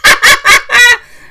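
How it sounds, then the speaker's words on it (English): Bird-call notification tone from a phone: four loud, rapid honking calls in quick succession, the last drawn out and fading into a short ringing tail, with no talking. "my ring, my messages, emails, all those notifications are birds"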